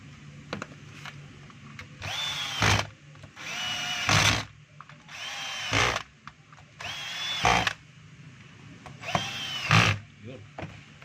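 A power drill drives in a screw in short bursts, about five whirring pulses of two to three seconds each with pauses between them, close by, with someone speaking in the gaps.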